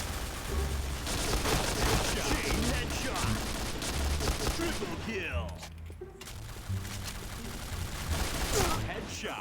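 Rapid bursts of gunfire in the shooter game Point Blank, loud and close, briefly dropping away midway before resuming, with someone talking over the shots.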